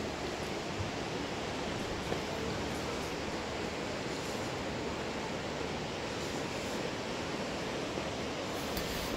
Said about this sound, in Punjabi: ਕਲਿਫ ਵਾਕ 'ਤੇ ਪਾਣੀ ਦੀ ਆਵਾਜ਼, ਉਹ ਨੇਚਰ ਦੀ ਆਵਾਜ਼